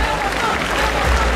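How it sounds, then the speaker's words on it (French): Audience claps at a costume and cosplay contest at the Yggdrasil 2024 convention, a dense, loud burst of applause from a crowd lasting the whole moment without pause. "On l'applaudit encore très fort s'il vous plaît."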